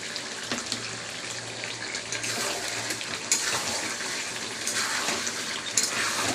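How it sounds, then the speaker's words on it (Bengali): Water splashes and trickles steadily into a cooking pot of dal, a soft continuous pouring sound at low level with no talk over it. "জল দিয়ে দেবো এবার একটু।"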